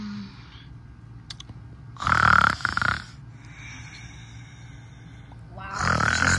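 A woman snoring in a plush-toy skit, two loud, rasping snores a few seconds apart over a steady low background hum, with a softer breathy stretch between them.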